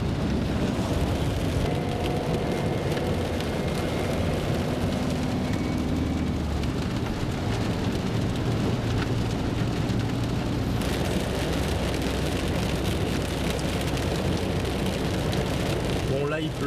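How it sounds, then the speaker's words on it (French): Heavy rain pours down steadily around an abandoned house, a dense continuous hiss and patter that stays loud throughout, with low rumbling underneath. "Bon là il pleut à mort."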